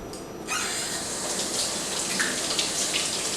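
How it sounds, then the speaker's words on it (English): A kitchen tap suddenly opens and runs steadily for hand washing during cinnamon roll baking, a close, continuous splashing hiss of water falling into the sink with small spatters and no voices. "let me wash my hands."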